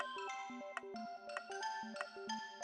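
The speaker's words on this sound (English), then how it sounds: "Ox's ship is ringing. It makes a strident, awful noise." A ship's communicator rings with a strident, harsh electronic tone, rapid repeating beeping notes in a jangling pattern, loud and close, running alone without talk.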